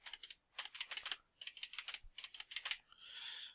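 Fingers typing a card number on a computer keyboard, quick close clusters of key clicks in short bursts with brief pauses, ending in a soft rustle.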